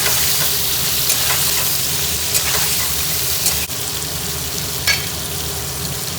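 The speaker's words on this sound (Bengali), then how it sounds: "নুন দিয়ে অল্প একটুখানি নাড়াচাড়া করে নেব" Food with salt being stirred in a frying pan on a gas stove, heard as a steady loud sizzle and frying hiss with occasional scraping clicks of a utensil, with no voices.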